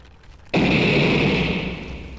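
A single close, heavy blast erupts abruptly in a video game and settles into a long, rumbling roar that gradually softens.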